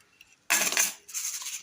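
Garlic cloves for gongura chutney drop into a stone mortar with a brief, bright clattering rattle, followed a moment later by a softer second scatter of hard little taps.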